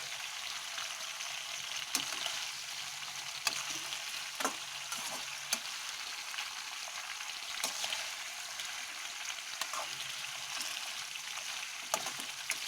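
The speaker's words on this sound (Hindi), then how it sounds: "इनको मिलाएंगे एक साथ। इनको मिक्स करेंगे।" Chicken koftas and lotus stem sizzle steadily in hot oil while being mixed, a continuous bright frying hiss broken by occasional spoon scrapes and taps against the pan.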